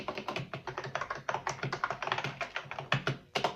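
Key presses on a ThunderX3 TK40 keyboard: a rapid stream of crisp, clacky taps in uneven typing rhythm, close and fairly quiet, with a few louder strokes near the end.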